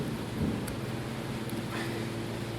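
Low thunder rumbles steadily ahead of an approaching storm, with a constant rain-like hiss throughout and no clear peak, heard outdoors beside a McCormick Deering M tractor engine.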